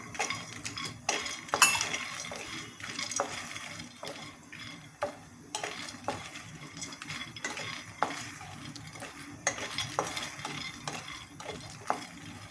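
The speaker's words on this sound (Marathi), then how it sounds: "काजू तुकडा पण भाजून घेऊ" Cashew pieces being dry roasted without ghee and stirred in a pan, with scraping and clinking of a spatula against metal in irregular strokes and a faint sizzle.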